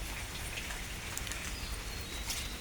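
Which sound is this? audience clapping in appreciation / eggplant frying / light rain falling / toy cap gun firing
light rain falling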